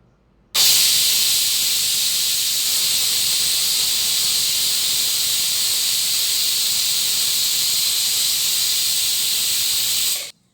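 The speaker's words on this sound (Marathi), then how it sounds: "मध्यम आचेवर कुकरची एक शिट्टी झालेली आहे" A pressure cooker whistle, cooking matar masala over medium heat, releases a loud, sustained steamy hiss for about ten seconds, then cuts off sharply.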